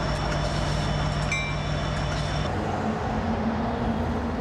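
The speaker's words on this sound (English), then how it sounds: "The red car approaches the railway crossing as a train arrives" Train arriving at a railway crossing with steady rumble of wagons, a loud continuous roar with tonal ringing that cuts off partway through.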